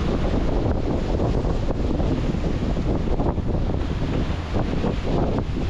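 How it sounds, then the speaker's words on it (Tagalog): Strong wind buffets the microphone over heavy sea waves aboard a boat off Mindanao as a low pressure area builds, a loud, unbroken roar with no voices. "Malakas ang alon mga kabisig"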